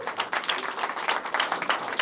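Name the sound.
audience applause at a stand-up comedy show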